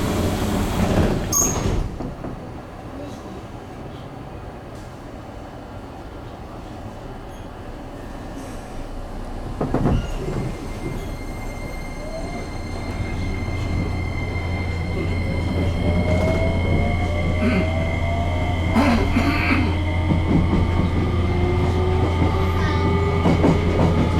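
A JR Kyushu 303 series local train runs from Chikuzen-Maebaru toward Meinohama, heard from inside the car: a steady low rumble and rising motor whine building as it gathers speed, with occasional clicks and clunks from the track.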